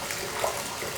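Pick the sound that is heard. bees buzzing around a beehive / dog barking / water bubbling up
water bubbling up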